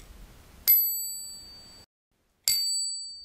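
A Coboc Cobell bicycle bell rings twice, each a bright, clear ding that lingers and fades, about two seconds apart with quiet between.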